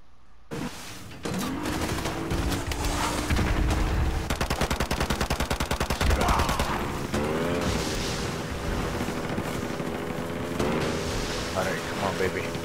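Rapid automatic gunfire in the Call of Duty: Modern Warfare 2 campaign, bursts of repeated shots loud and close over a rumbling vehicle and music bed, with someone talking throughout.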